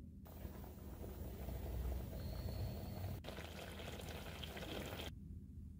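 Kovakkai kuzhambu, an ivy gourd curry with ground paste and water, bubbles in a pot on the stove with a soft, steady simmering hiss and faint popping throughout.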